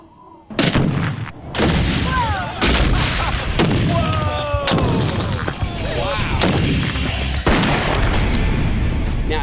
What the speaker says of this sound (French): Allez, double charge d'explosifs binaires d'Hollywood.